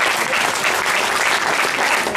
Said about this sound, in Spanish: vamos a dar un fuerte aplauso a Eduardo